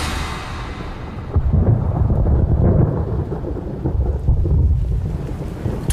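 Heavy monsoon rain pours in a dense jungle while deep thunder rolls and rumbles continuously, loud and enveloping with no voices.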